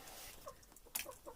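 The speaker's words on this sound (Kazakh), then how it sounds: "Тауықтар жеп жатыр." Chickens eating in a coop, a few soft clucks and short pecking sounds scattered across a faint, quiet background, heard close but at low level.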